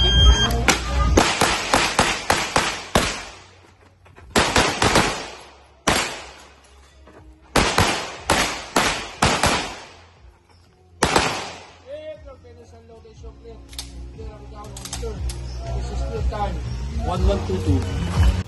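Rapid bursts of sharp handgun shots hitting targets at a shooting competition fire in quick strings separated by pauses, followed by quieter talk and shuffling.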